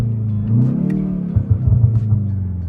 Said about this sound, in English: The iconic sounds, I wouldn't say they sound good because it's a pumped in sound.